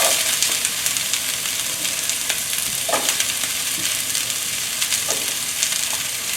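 Celery hitting a hot wok already fragrant with ginger and garlic, a continuous loud sizzle with scattered scraping stirs and tosses over several seconds, no voices.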